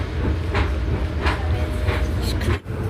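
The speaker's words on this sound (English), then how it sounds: "take the train to the city right now" Riding an express train non-stop into the city: a continuous low rumble with rhythmic rail clatter recurring every half second or so, a short dip near the end, and someone talking over it.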